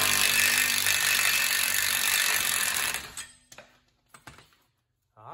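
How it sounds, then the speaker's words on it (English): A power tool whirs and ratchets steadily for about three seconds while removing a wheel nut on a 2015 Ford Explorer during wheel bearing repair, then cuts off, leaving a few scattered clicks and clanks. "we're gonna go ahead and get that nut off."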